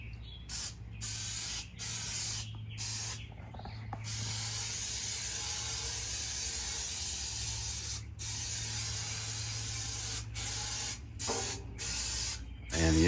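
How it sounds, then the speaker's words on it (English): Pam cooking spray hisses in repeated bursts inside the interior of a 94-gallon offset smoker, close and steady with brief pauses between sprays. "I'm gonna get this sprayed down, and I'm just using some Pam"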